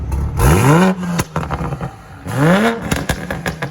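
A 2020 Toyota Supra with its muffler deleted revs hard twice, each blip rising sharply then dropping, loud and close, with popping and crackling in the gap between the revs.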